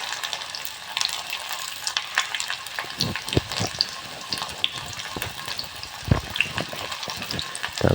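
Crushed garlic and ginger sizzle and crackle in hot oil with onions, a steady close fry with occasional sharper pops and stirring scrapes, no voices.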